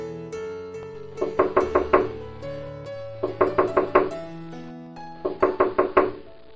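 Someone knocks on a locked door in three bursts of four or five rapid raps, loud and close, with background music playing steadily beneath.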